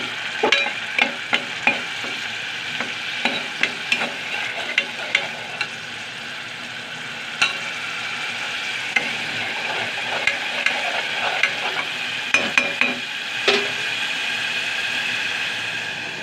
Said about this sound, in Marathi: आता हे वाटण आपण तेलात घालूया।